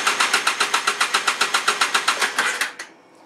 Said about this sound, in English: cold start on the 700 V-twin. 720 whatever, Polaris.